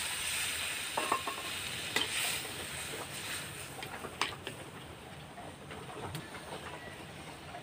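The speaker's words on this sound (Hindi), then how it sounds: "पानी डाल देते हैं अभी।" Potato curry sizzling and frying in a pan after water is splashed in, a steady crackling hiss with scattered sharp pops and clinks, heard close up with no talking.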